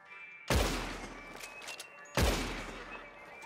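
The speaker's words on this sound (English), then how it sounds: "I'm gonna shoot you with my rifle" Two loud rifle shots ring out about two seconds apart in a western roleplay game, each a sharp blast with a long decaying rumble.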